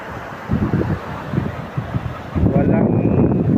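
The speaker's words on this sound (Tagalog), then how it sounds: "Oh, grabe ang alon sa likuran ko." Rough sea waves surge and slap around and behind a small fishing boat in stormy, windy weather, with heavy wind rumble buffeting the microphone in uneven bursts and a voice talking over it.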